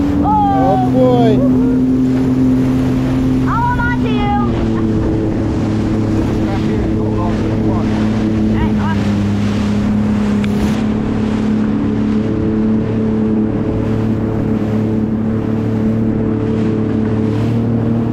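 A Sea-Doo personal watercraft drones steadily at sea during a fishing outing, its engine holding a loud, near, continuous hum that shifts pitch slightly as it changes speed, with wind buffeting and brief voices early on.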